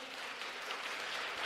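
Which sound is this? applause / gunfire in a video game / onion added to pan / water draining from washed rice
applause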